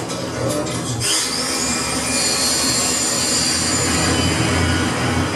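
A jet aircraft flying past, a loud, steady broadband roar with a rising high whine sweeping upward early on, then holding as a sustained engine drone.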